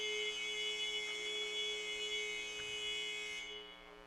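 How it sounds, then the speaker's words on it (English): A long, steady electronic buzzer sounds at an indoor pro basketball game, Indianapolis Diesels vs Lake Michigan Admirals, holding one loud, unbroken harmonic tone for over three seconds before cutting off near the end. "It's an awfully long buzzer there."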